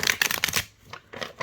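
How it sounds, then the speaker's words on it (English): A deck of divination cards is shuffled by hand, a quick run of crisp riffling flaps followed by softer, scattered card rustles, close and clear with no talking. "shuffling this deck is really hard"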